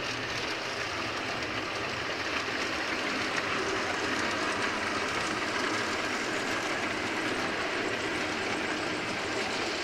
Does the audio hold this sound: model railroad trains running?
yes